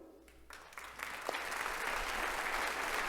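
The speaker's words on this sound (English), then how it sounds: "Round of applause." A crowd at a magic show greets magician David Berardi with applause that starts with a few scattered claps and swells into steady, full clapping that keeps building.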